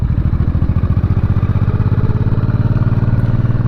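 A 1985 Honda Shadow VT700 motorcycle engine runs steadily during a ride, with a loud, close, low rumbling pulse and an even mechanical clatter throughout, and no talking.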